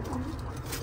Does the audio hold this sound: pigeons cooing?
yes